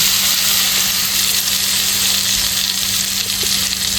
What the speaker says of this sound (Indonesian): Kita akan menggongso bumbunya terlebih dahulu.